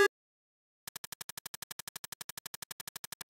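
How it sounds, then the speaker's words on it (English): Printer printing out in the horror game IMSCARED: after a short click and pause, a fast, even run of mechanical ticks repeating steadily, loud and alone. "Oh, it's printing out."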